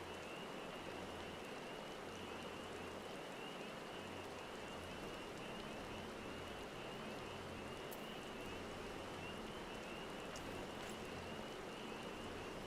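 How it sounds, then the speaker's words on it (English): Steady rain falls without pause, an even wash of dense patter with a faint high whine running through it, soft and distant-sounding, with no voices. "It's raining in here, it's raining in there, and it's raining out there."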